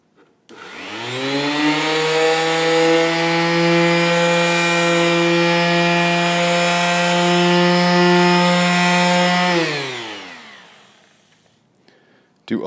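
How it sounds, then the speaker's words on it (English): Palm sander smoothing the edges of a wooden sign, a loud steady motor whine starting up, running continuously for several seconds, then spinning down to quiet. "Sanding the edges using the palm sander."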